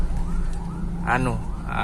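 An ambulance siren wails with rising and falling tones on a road in Indonesia, heard over loud engine and traffic rumble from inside a passing vehicle.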